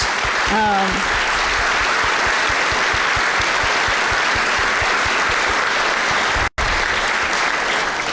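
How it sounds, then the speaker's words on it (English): An audience at a town hall on education policy in Arkansas applauds with steady, dense clapping that continues for several seconds, with a brief voice near the start and a sudden cut near the end. "So I want to give them a huge round of applause."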